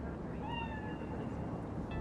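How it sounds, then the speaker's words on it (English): In the video game Cyberpunk 2077, a cat gives a short meow over a low ambient hum, with a second faint mew at the end. "Chill, just a cat."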